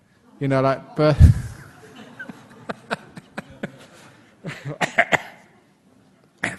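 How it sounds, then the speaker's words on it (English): A person coughs several times, a harsh burst followed by smaller sharp coughs and throat sounds, then another cluster of coughs near the end. "I've got a bit of a cough."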